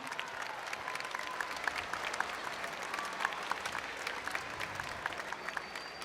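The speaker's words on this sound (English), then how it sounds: "give the amazing 8th grade band another round of applause" An audience at a school band concert claps steadily for an 8th grade band, a dense patter of many hands applauding at moderate volume without pause.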